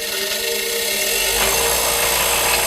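A bench grinder runs nearby with a loud, steady motor whine and buzzing rattle, its tone rising slightly partway through as it vibrates against the floor.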